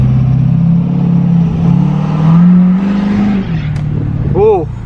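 A diesel truck engine runs on gasoline as it accelerates on a test drive, giving a loud, close, steady drone that rises in pitch, with a brief whine near the end.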